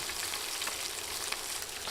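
Fish pieces fry in hot oil, giving a dense, steady close sizzle with a crackling texture throughout and no voices.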